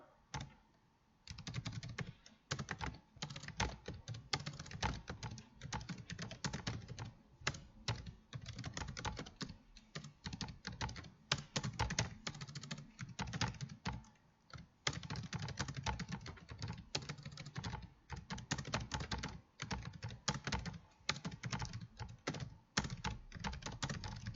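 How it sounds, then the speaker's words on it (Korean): Korean text is typed on a computer keyboard in a long, fast run of close key clicks with brief pauses between words and lines, and no voices. "엔터를 누르고 이제 한글을 쳐볼게요"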